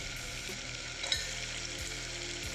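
Garlic paste fries in a pan while being stirred, giving a steady close sizzle with occasional spoon scrapes against the pan and no talking.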